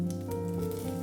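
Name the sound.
red onions sizzling in chili oil in a non-stick pan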